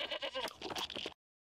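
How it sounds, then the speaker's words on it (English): A cartoon goat bleats in a quavering, nasal cry lasting about a second, loud and close, then cuts off abruptly into silence. "Goats love eating them some boots."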